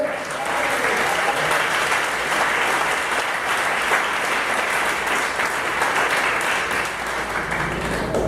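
A church congregation applauds during a Portuguese-language sermon, with dense, steady clapping that fills the room at an even level from start to finish. Faint voices may mix into the crowd noise.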